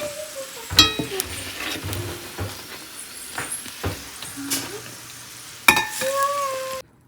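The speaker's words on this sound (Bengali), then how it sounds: "তো এক এক করে সব এইরকমভাবেই ভাজা করে নেব।" Ash gourd fritters deep-frying in hot oil, a soft continuous sizzle broken by sharp clinks and scrapes of a utensil against the pan, heard close with no talking.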